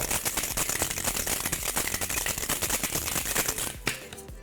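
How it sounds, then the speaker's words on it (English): A bottle of Baja Blast soda is shaken hard to froth it up, giving a loud, continuous rapid sloshing and rattling that runs for several seconds and then cuts off abruptly near the end. "I'm actually gonna shake it up a little bit more, just get a little frothier."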